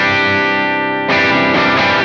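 Electric guitar played through a Strymon Iridium amp modeler set to a Vox AC30 with light drive: a chimey, slightly gritty sustained chord that rings, then a second strum at mid-clip, close and full.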